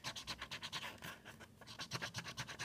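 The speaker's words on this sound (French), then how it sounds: "Donc moi je colorie sur le bord à l'intérieur." Marker or felt pen rubbing along the inside edge of a paper bunny-shaped candy box, a quick run of close, soft rhythmic scratching strokes with brief pauses, and no voice over it.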